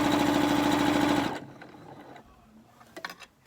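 A sewing machine stitches fabric and elastic for a face mask in a fast, steady mechanical whir that stops after about a second, leaving faint handling clicks and light rustling.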